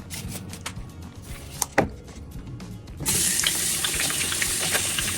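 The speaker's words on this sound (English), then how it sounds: "So I'm going to wash my hands and we begin." A tap runs as hands are washed beneath it, first scattered splashes and drips, then a steady, louder gush of water into a sink.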